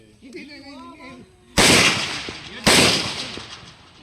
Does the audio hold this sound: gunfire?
yes